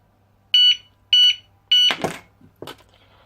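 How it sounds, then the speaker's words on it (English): A Romaak alarm padlock sounds three loud, shrill electronic beeps in quick succession, each about a fifth of a second long, followed by sharp metallic clicks and rattles of the lock being handled. "if this is rattled twice within 5 seconds and then is not unlocked within another 5 seconds, the alarm will go off"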